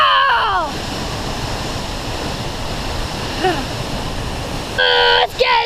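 Franklin Falls waterfall pours steadily as a continuous broadband roar filling the whole stretch, with excited voices and brief calls breaking in at the start and near the end.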